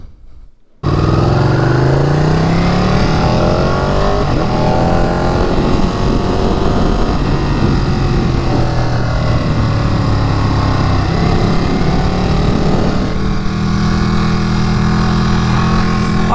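A 2018 Ducati Panigale 959 motorcycle being ridden starts up suddenly and holds a loud, close engine drone, its pitch sweeping up and down with gear changes and throttle, with no voices.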